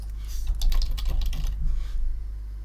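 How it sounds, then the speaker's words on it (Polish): An email address is typed on a computer keyboard in a quick, steady burst of close key clicks that stops after about two seconds, with a low steady hum underneath. "Przykładowo wpisuję mój adres mailowy"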